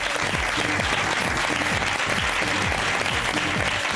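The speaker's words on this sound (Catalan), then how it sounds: "Fora aplaudiments." A television studio audience on a Catalan talk show breaks into steady, energetic applause, many hands clapping densely and evenly throughout, with music mixed underneath and no speech.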